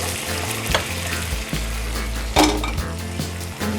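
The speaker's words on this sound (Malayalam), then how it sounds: "നമ്മൾ ഈ ഗ്രീൻ പീസ് നമ്മൾ ഈ ഗ്രേവിയിലോട്ട് ഇടാൻ പോവാണേ." Green peas tipped into a hot, sizzling onion gravy for a Kerala-style peas masala curry and stirred, giving a steady close frying hiss with a spoon scraping and clinking against the pan, no voices.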